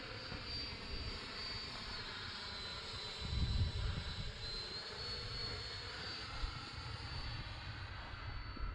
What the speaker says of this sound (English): Sweet flying jet.